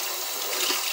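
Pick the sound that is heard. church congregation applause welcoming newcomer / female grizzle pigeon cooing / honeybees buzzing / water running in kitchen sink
water running in kitchen sink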